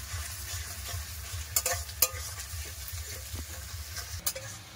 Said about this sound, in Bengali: আদা রসুন বাটাও ভালো করে ভেজে নেবো যতক্ষণ না কাঁচা গন্ধটা যায়